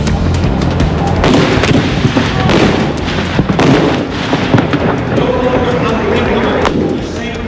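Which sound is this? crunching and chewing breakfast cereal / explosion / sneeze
explosion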